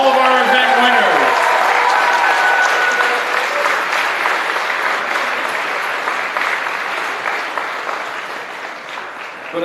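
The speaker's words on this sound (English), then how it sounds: "How about one more big round of applause for all of our event winners?" Loud, sustained applause from a crowd honoring Formula SAE event winners at an awards ceremony, steady clapping filling the whole stretch and slowly thinning toward the end.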